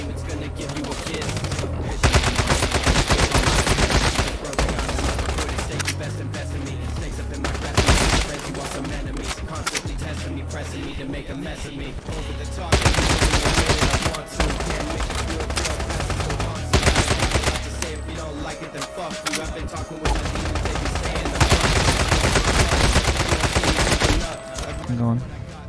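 Repeated bursts of automatic gunfire in the survival shooter Once Human during a PvP raid, loud and dense, coming in several clustered volleys with short lulls between them, with voices talking over the shooting.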